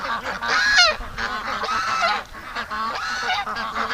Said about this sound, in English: Poor little duck.